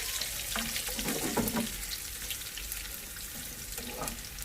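Garlic with curry leaves frying in a pan for a dal tempering, a soft continuous sizzle with faint stirring touches, quiet and close, with no talking.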